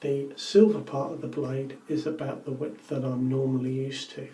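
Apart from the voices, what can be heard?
No distinct noise like a dog, phone or traffic.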